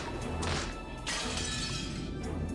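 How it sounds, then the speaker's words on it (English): Glass window being smashed with an antique chair in the visual novel Umineko: a bright, noisy crash with scattering shards, followed by a second heavier crash and lingering rattle, loud and close. "The glass smashed with a violent sound."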